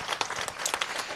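Brief scattered applause from an audience at a startup founder event, a quick patter of individual claps, moderately close and fairly light.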